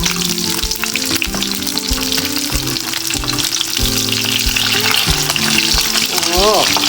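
Loud, continuous frying sizzle of snakeskin gourami fish in a pan, with bubbling crackle and occasional stirring or scraping sounds, close up, no talking.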